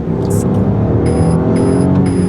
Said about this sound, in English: this car has a lot more power because when you floor it, listen